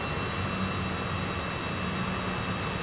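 A Citation CJ4 business jet taxis in Microsoft Flight Simulator 2020, its engines giving a steady, even whine and broad rushing hum with no talk over it.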